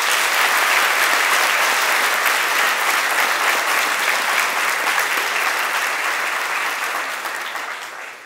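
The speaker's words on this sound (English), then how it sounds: "You can give them another round of applause." An audience applauds a band, steady dense clapping filling the hall at close range before thinning and fading toward the end.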